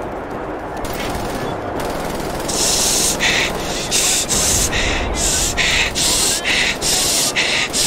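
Gunfire in the Nazi-themed shooter Wolfenstein, rapid repeated shots in short loud bursts over a constant roar of game noise, with no voice heard.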